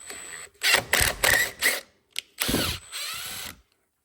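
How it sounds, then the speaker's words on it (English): Self-tapping screws are driven into a John Deere GT225 garden tractor with a power driver, cutting their threads in a series of short, close whirring bursts that end in one longer run, with quiet gaps between them. "just going to run these in first. Get the threads cut."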